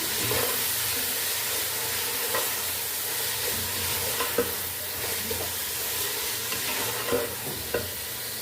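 Three medium chopped tomatoes stirred into frying chicken and cauliflower curry, a constant close sizzle and hiss with occasional soft spoon scrapes against the pan.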